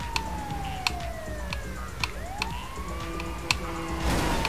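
Ambulance siren wailing in a video game, its gliding tone sweeping down and back up over steady engine rumble, with a few sharp clicks and thumps from the game along the way.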